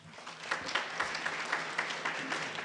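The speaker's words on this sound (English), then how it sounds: "please, round of applause welcoming Steve and Tally." An audience at a company event applauds to welcome two speakers, with moderate, steady clapping at some distance.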